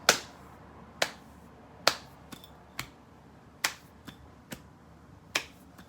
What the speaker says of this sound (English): the clapping pattern is always the same, which is this